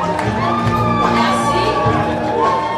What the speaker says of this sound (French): On va donner d'applaudissements.